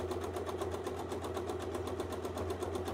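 A sewing machine runs a quick free-motion test stitch with a fast, even rapid-fire needle rhythm and a steady motor hum, close and continuous throughout.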